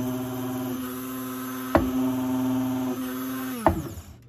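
Krups Silent Vortex electric coffee grinder running with a steady, close motor hum, broken by two sharp knocks as the unit is lifted or set down, then cutting off at the end.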